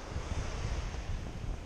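Ocean surf washes steadily onto a bay beach, a low continuous rumble and wash mixed with wind buffeting the microphone, with no voices.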